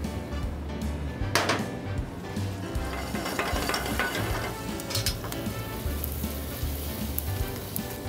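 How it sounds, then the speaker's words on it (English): Garlic sautéing in melted butter in a pan, a steady close sizzle with occasional utensil clinks and scrapes, continuous and even throughout. "we're gonna saute a little garlic in there"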